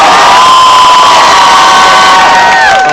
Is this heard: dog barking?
no